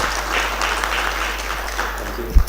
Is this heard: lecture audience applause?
yes